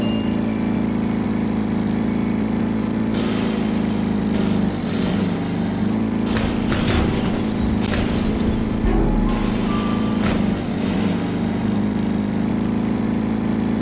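The engine of a riding lawnmower in the video game Kill It With Fire drones steadily and loudly throughout, with rattling and clattering surges over the constant hum.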